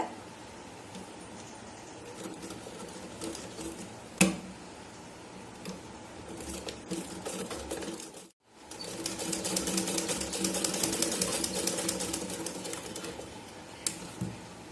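Sewing machine stitching blouse fabric pieces through the centre to hold them in place, a steady rapid ticking run that pauses around the middle with a brief silence, then resumes louder and continuous.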